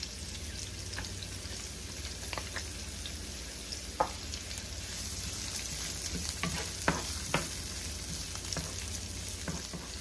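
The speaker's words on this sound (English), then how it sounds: "Let that saute until translucent, and that's about 2 minutes." Onions and garlic sauté in a pan for a Dominican fish in Creole sauce, giving a steady, even sizzle with a few sharp pops and light stirring clicks, moderately close, with no talk.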